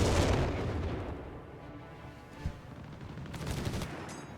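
Artillery barrage in Company of Heroes 3, a World War Two strategy game: dense, rolling rumble of shell blasts and gunfire with a sharp impact midway, loud and continuous throughout.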